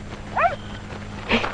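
A dog gives two short, high yelping whimpers about a second apart, a little distant over a low background hum, with no talking.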